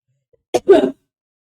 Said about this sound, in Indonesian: Oh, gue batuk.